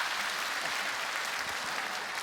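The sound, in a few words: audience applause in church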